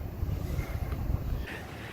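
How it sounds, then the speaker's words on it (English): Strong gusts blow across an outdoor yard beside a new flower bed, a steady low rumbling wind buffet on the microphone for the whole stretch, with no talking. "the wind is just blowing everything everywhere"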